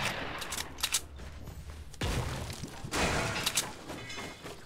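Video game gunfire crackles in repeated bursts of shots, with sharper, louder volleys midway and the exchange continuing steadily throughout, close and fairly loud.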